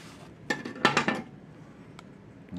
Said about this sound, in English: Get my knife cleaned up.